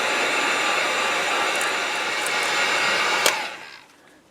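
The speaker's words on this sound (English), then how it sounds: "We're going to hit the heat gun here." A heat gun blows steadily while drying a multi-color wrap, a loud, even airy roar that holds for about three seconds, then cuts off and fades, with a brief click near the end.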